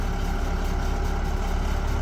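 A GAZ-52 truck engine idling smoothly with a steady, even low rumble and a constant drone close by, with no speech.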